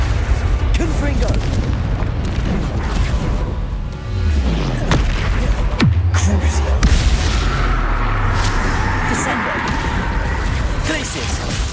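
Confringo blasting spells in Hogwarts Legacy go off as heavy booming explosions amid a dense, loud battle din, with a voice talking throughout.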